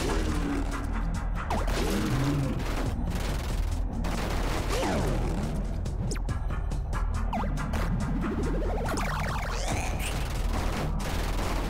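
A gun salvo fires in the Lulu's Temple video game pyramid, a dense run of rapid sharp shots and crashes mixed with whooshing sweeps and mechanical game effects, with no talk.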